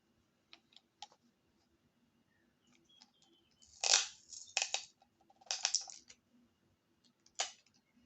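Scissors snipping paper for scrapbooking, a handful of short, crisp cuts and clicks close by in a quiet room, irregularly spaced.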